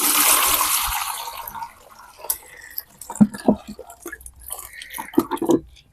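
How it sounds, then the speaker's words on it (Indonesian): Soaking water from a day-long soak of corn seeds poured off and drained, a loud gushing splash at first that fades into scattered drips and small trickles, with a voice talking over the later part. "Sekarang kita buang airnya ya. Dibuang airnya. Kita tiriskan seperti ini."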